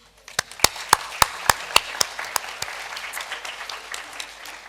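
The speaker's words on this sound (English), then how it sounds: "So I think we need to give all of you a round of applause." A seminar audience starts with a run of about ten loud, evenly spaced unison claps that dissolve into sustained, scattered applause across the room.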